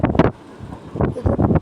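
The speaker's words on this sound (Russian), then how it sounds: "еще сильнее ветер" Strong gusting wind roars across a microphone outdoors in Ulan-Ude during a storm, a broad steady rush broken by louder buffeting bursts at the start and end.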